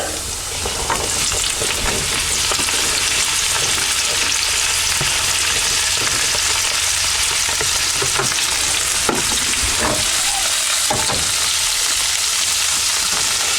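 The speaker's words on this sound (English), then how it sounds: "There, our garlic's starting to brown nicely. We'll add our vegetables." Vegetables dropped into a pan with browned garlic fry in a loud, dense, continuous sizzle close by, with faint scrapes of stirring now and then and no voices.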